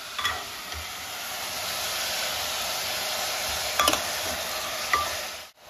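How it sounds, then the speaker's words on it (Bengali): Onions frying over a full flame in a pan for mutton curry, a steady close sizzle with scraping stirs and a few utensil knocks. "এটা পেঁয়াজটা আগে ভালো করে ভাজতে হবে। এটা কিন্তু ফুল ফ্লেমেই ভাজবো"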